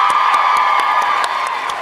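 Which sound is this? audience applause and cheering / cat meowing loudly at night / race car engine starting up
audience applause and cheering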